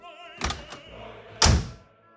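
Key turning the door lock of a 1973 VW Super Beetle convertible, two distinct close mechanical thunks, the second louder and heavier, with quiet between them.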